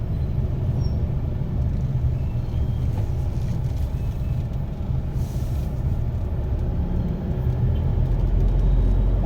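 Busy town road traffic on December 24 rumbles steadily, with passing cars and buses and a hiss of air brakes in a dense, continuous wash of engine noise.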